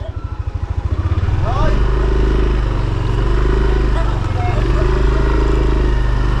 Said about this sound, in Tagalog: Bagong-bago pa kasi itong motor ni Kuya Boy.